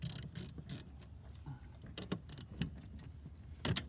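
A socket wrench ratchets in short bursts of rapid clicks while loosening a tight wiper nut at the hood of a 2011-2018 Porsche Cayenne, close and quiet with pauses between strokes.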